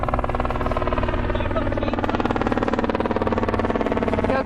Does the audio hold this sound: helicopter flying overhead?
yes